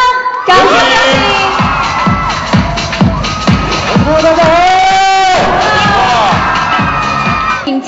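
A large audience at the CCTV MTV music awards gala cheers, whoops and shouts loudly to welcome an award winner, a dense continuous roar of voices with rising and falling excited cries.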